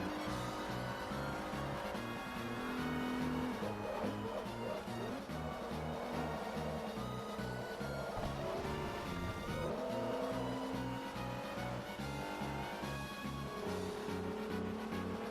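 Race cars in Forza Motorsport 3 drone steadily throughout a long race, engines holding a loud, continuous pitch with shifting tones and occasional tire squeal, with background game music layered underneath.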